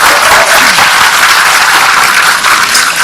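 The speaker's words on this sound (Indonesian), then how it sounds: "Tepuk tangan buat Pak" Loud, dense applause from a live audience for Anies Baswedan, a former governor, filling the room continuously without a break, with no voices standing out above the clapping.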